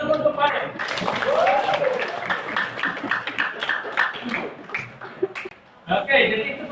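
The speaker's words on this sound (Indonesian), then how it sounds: "itu kita berikan aplaus dulu untuk Farel" A classroom full of students applauds a fellow student, with dense scattered clapping running for several seconds, mixed with chatter and light laughter, dipping briefly before a final burst.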